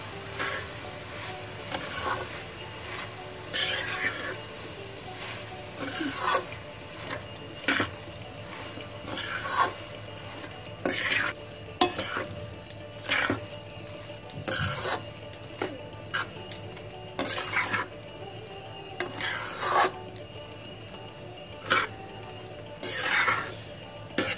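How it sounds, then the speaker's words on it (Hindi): Grated carrot halwa with sugar is stirred in a pot until the sugar dissolves: irregular spoon scrapes and metallic clinks against the pan repeat at an unhurried pace over a faint background sizzle. "चीनी घुलने तक चलाते रहेंगे।"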